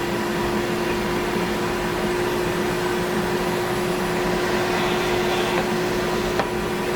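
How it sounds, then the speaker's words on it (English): A shop vac hooked to a bandsaw's dust collection runs steadily close by, a continuous broadband whoosh with a constant motor whine and no breaks throughout. "Let's plug it into the shop vac."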